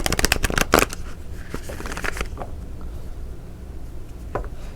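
Tarot cards shuffled by hand in a quick burst of riffling slaps at the start, then a quieter stretch with a few soft card taps and shuffles.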